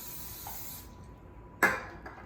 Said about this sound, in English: I'm going to spray it down with some oil before I go on the grill so it doesn't stick.